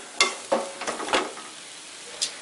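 Chopped chow chow is tossed with spice powder in a pan over low heat, a few quick scraping strokes and light sizzling bursts, close and brief.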